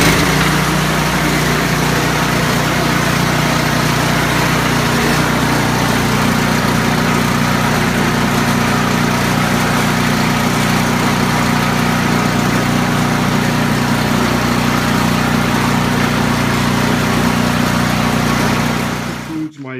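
A John Deere 1028E snowblower engine, pull-started in a heated garage, runs steadily and loudly close by, a constant idling drone that continues without a break until it cuts off at the very end.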